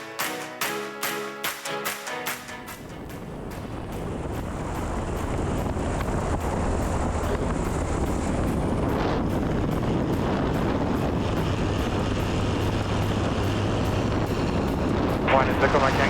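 After a few sharp knocks, a light STOL bush plane coming in to land in South Africa fills the recording with a loud, steady engine drone and rushing wind noise, while a voice talks over it.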